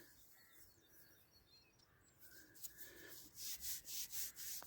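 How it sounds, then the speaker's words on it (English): Soil being rubbed gently off a small metal-detected jetton coin outdoors, a soft close scraping that builds into several firmer rhythmic rubs near the end, with faint birdsong behind. "Let's give it a bit of a gentle rub."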